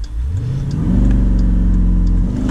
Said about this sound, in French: Pied sur le frein, accélération à fond. Je lâche le frein et ça part.